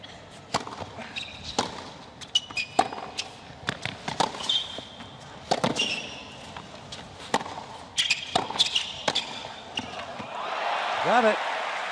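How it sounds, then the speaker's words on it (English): Professional tennis rally between Nadal and Djokovic at the 2010 US Open, sharp ball strikes and bounces popping at an irregular rhythm, ending with a volley as crowd noise swells, with commentators talking over it. "That was a beautiful volley."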